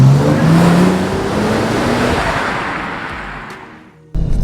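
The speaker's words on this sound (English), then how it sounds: "Turbo noise." A turbocharged 1JZ straight-six engine in a Toyota Crown roars loudly as it accelerates, turbo noise climbing steadily in pitch, then the sound drops away and cuts abruptly near the end.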